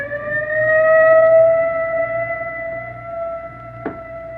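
An ambulance siren from an old-time radio crime drama sounds a steady, wailing tone that swells and then slowly fades, ending with a brief sharp click.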